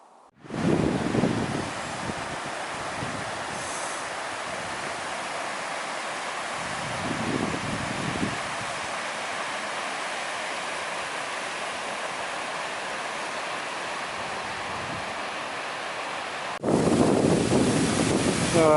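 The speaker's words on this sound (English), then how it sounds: "So wind's getting a bit fresher now." Wind roars across open Dartmoor moorland in winter, buffeting the microphone with a steady, loud rush that swells stronger near the end.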